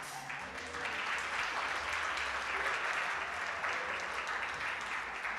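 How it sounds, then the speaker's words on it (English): An audience at a symposium on Black history education applauds, a dense, steady wash of clapping that continues throughout, fairly quiet and distant. "I am sure you all can clap better than that."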